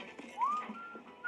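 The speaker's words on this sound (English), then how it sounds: "Oh yeah, whistling won't draw attention to you." A short, faint whistled note rising in pitch then holding, with a brief second whistle at the end, quiet and close.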